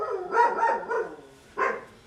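A dog barks in a few sharp, close bursts, with two quick barks followed by a single louder one after a short pause.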